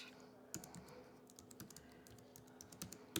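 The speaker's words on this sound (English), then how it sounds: "So if I type in my name" Someone types on a computer keyboard while entering details for a credit freeze, giving a few close, irregular key clicks and taps with no talk over them.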